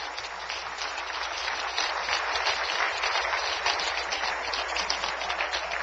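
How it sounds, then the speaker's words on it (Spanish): Church congregation applauds during a sermon, a soft, steady wash of clapping heard at a distance and fairly quiet throughout. "Dale un aplauso al Rey bendito."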